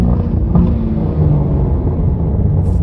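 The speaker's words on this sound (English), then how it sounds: "You hear the turbo spool up." A BMW G80 M3 fitted with an AWE Switchpath exhaust and high-flow catted downpipes sits in sport mode, its engine giving a steady, close, deep rumble with no talk over it.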